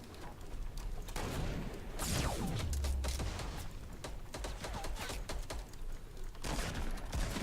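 Gunfire in the video game Fortnite crackles in scattered bursts of quick shots over a busy game soundscape, with a descending whoosh partway through.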